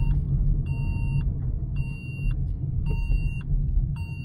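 A car accelerates through the gears, its engine rumbling low and close inside the cabin while a repeating warning beep chimes in regular bursts.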